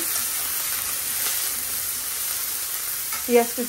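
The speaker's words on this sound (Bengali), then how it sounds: "এখন ডালটা সম্বার দিব, পাঁচফোড়ন, শুকনা মরিচ আর এই যে দুটা তেজপাতা দিয়ে দিছি" Panch phoron, dried chillies, two bay leaves and chopped onion being tempered in hot oil for lentil dal, a loud steady hiss and sizzle with a brief stirring clatter near the end.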